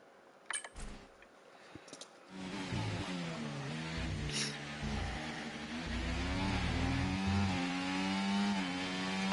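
A race car engine in the iRacing sim racing game starts after a few clicks and taps, then revs and drones with rising and falling pitch as the car accelerates through gears.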